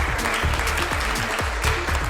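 Applause at an Indian awards ceremony honouring Bharat Ratna Dr Ambedkar, steady and loud throughout, with irregular low thumps mixed into the dense clapping.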